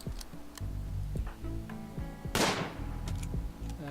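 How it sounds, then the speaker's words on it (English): An ancient bolt-action rifle fires in the game Rimworld, giving scattered sharp clicks and thumps over a low tonal game backdrop, with one louder, noisier shot burst near the middle. "Ancient bolt action rifle, good range, good power, low rate of fire."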